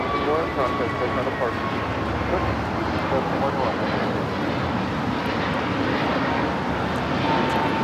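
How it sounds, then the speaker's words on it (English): An American Airlines Airbus A321neo takes off at Los Angeles LAX, its engines giving a loud, steady broadband roar throughout, with voices talking over it. "This is American Airlines 721 taking off to Phoenix on the A321neo"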